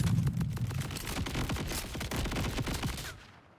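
Jakobs assault rifle fired in Borderlands 4, a dense continuous stream of close, loud shots with heavy low rumble, holding steady for about three seconds before tapering off.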